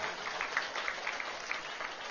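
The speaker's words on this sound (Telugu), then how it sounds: "పట్టండి చప్పట్లు ఒకసారి." An audience at a devotional satsang gathering claps together, a brief, fairly faint patter of many hands with no voices over it.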